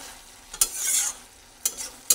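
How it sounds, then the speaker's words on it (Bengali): A spoon scrapes through kakrol malaikari curry just after milk is added, with a few sharp strokes against the pan over a steady soft simmering hiss. "দুধ দেওয়ার পরে ভালোভাবে নাড়াচাড়া করে নিচ্ছি।"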